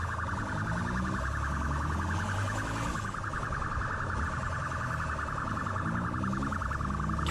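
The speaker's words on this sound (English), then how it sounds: "Turn the tone of that siren" A police siren wails loudly and continuously at close range, its rising and falling tone steady throughout with no talk over it.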